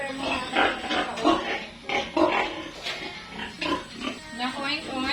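A sow that has just given birth to a litter of piglets makes repeated low grunts in an uneven rhythm, close by, with a person talking over them.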